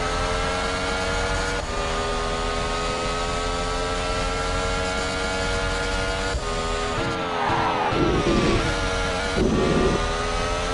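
A BMW Sauber Formula 1 car in the Monoposto racing game at Albert Park screams at high revs, holding a loud steady engine whine with gear shifts and dips in pitch as it brakes and accelerates through corners.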